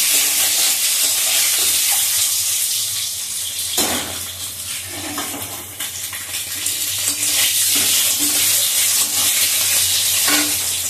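An egg frying in oil in a kadai, continuous close sizzling with occasional stirring and spatula scrapes, louder at moments, with no one speaking.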